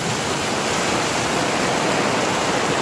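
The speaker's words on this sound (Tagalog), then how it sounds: "Malaki na yung ilog." A rushing, flooded river roars as a loud, continuous broadband wash of water, steady and close, with no voices over it.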